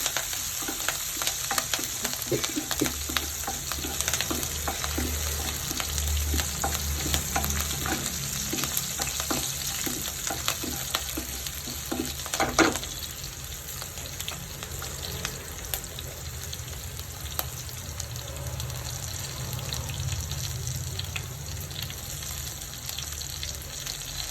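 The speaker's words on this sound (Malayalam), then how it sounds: "വെളുത്തുള്ളിയും പച്ചമുളകും കൂടെ ഇട്ട് കൊടുക്കാം ഒരു നാലല്ലി വെളുത്തുള്ളി അരിഞ്ഞിട്ടതാണ് അത് നന്നായിട്ടൊന്ന് മൂത്തോട്ട്" Four cloves of sliced garlic and green chillies frying in a pan, a sustained close sizzle with rhythmic spoon stirring early on and a single louder knock midway.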